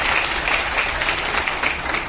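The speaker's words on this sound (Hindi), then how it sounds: "चलिए जरा एक बार ताली बजा दो यार" A seated audience at a commission's inaugural session claps together in a dense, steady round of applause, close and fairly loud throughout.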